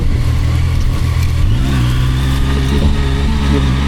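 A Zontes 703F motorcycle engine revs steadily while climbing uphill, a loud continuous mid-pitched drone with slight rises in pitch, close and constant throughout with no talk.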